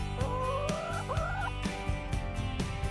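A rooster calls repeatedly nearby, throaty gobbling and clucking notes over a steady low background hum.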